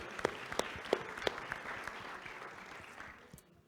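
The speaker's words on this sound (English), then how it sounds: "we'll give Kurt the round of applause" Rotary club audience members give a round of applause at a meeting, scattered individual claps standing out early, then thinning to a faint patter that fades toward the end.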